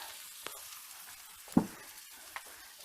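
Okonomiyaki batter hits a hot pan with a soft, steady sizzle and a few sharper pops, fairly quiet and close.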